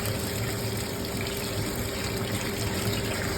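Rice being washed and soaked in water while preparing mutton majboos with basmati rice, a steady continuous wash of running, sloshing water close by with no talking.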